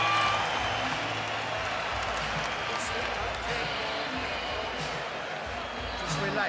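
Crowd at the 2017 Manny Pacquiao vs Jeff Horn boxing fight cheering and applauding, a loud sustained roar of many voices and claps throughout, with commentator speech over it.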